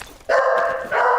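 A dog barks twice in quick succession, loud and close, each bark drawn out and strained, with nothing else heard around it.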